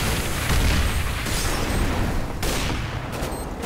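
Grenade blasts and gunfire in Counter-Strike: Global Offensive, a loud, dense stretch of booms and bursts with sharp new hits near the middle and toward the end, no voices.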